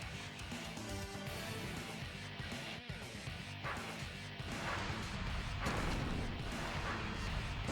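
Bomb explosions in the Ninja Gaiden Black video game, a dense run of loud crashing blasts and impacts layered over continuous game music and effects, growing busier toward the end.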